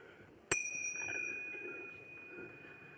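A single bright strike of a click bell, sharp and close, its metallic ring sustaining and slowly fading over low room murmur in a workshop session.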